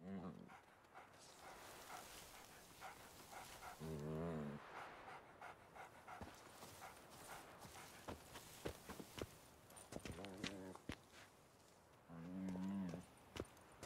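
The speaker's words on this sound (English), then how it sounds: "Did I just get a dog?" Dog in The Witcher 3: Hearts of Stone expansion, giving a few drawn-out whining, harmonic yelps in separate bursts around four, ten and twelve seconds over quiet game ambience and panting.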